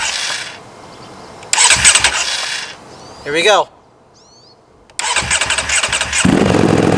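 A 2025 Ducati Panigale V4 fitted with a full titanium exhaust cranks and fires, with loud bursts of engine noise and revving around a brief spoken phrase, close and dominant.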